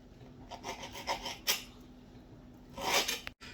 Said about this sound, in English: So now I'm cutting this off into little thin strips.